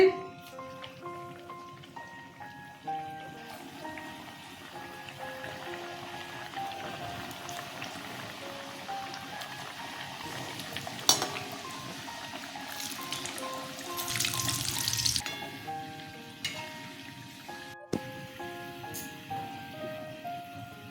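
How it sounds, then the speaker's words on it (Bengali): Puris deep-frying in hot oil in a home kitchen give a steady crackling sizzle, rising to a louder, denser burst partway through, all set beneath continuous background music with no talking. "এখন আমি ভেজে নেব এগুলো ছেড়ে দিচ্ছি"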